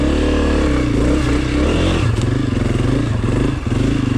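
A Honda CRF250F dirt bike ridden off-road, its engine loud and close, revving and bogging through rough terrain with rattling, clattering chassis noise and shifting throttle throughout.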